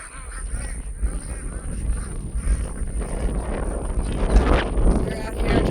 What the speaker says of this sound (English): Got a couple of geese in there as well.